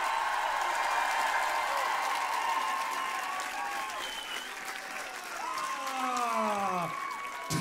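A festival crowd applauds a rock band at an open-air show, loud continuous clapping that fills the space, with swooping guitar feedback or sliding tones rising through it toward the end.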